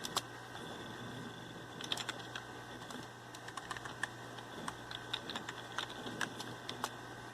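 Typing on a computer keyboard to enter a command in a Linux terminal: a quiet, steady run of light clicking keystrokes with irregular rhythm, close to the mic, with no talk.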